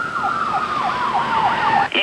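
An ambulance and fire siren wails in a repeating up-and-down sweep, loud and steady, with a faint hum of traffic underneath before it cuts off abruptly at the end.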